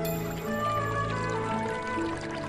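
Mineral water is poured in a Beskid water advert, a steady liquid pour blended with sustained musical tones, continuous and fairly loud throughout.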